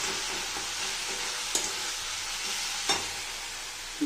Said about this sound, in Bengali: এবার এটা ভালো করে নাড়াচাড়া করে